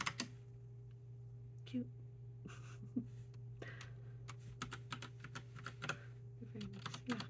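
Keys clatter on a Logitech Pop Keys mechanical keyboard in quick, irregular bursts of sharp clicks, close and fairly quiet over a low steady hum, with a brief spoken word partway through.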